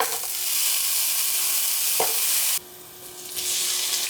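Garlic frying in a pan, a loud hissing sizzle that briefly dips partway through, then continues more quietly and builds again.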